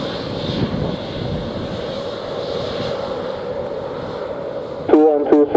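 An airliner on the runway at takeoff, a loud sustained jet engine roar holding steady at close range, with a brief radio voice breaking in near the end.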